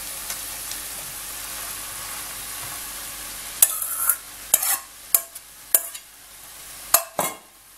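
Sliced cabbage, salted and hand-pressed to release its juice, is tipped into a hot pan for stewing and then stirred, giving a steady low sizzle broken by a series of sharp scraping stirs near the end.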